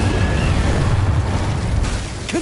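An Incendio fire spell cast in Hogwarts Legacy, a loud, sustained whooshing roar with deep rumble that fades slightly toward the end, close and without talk.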